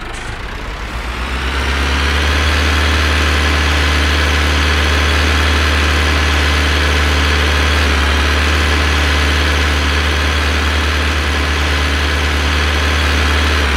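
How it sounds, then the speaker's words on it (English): A tractor engine in a Farming Simulator video game idles steadily and loudly without a break, a low, constant rumble with no talking over it. "I'm going to be quiet so you guys can actually hear the engine."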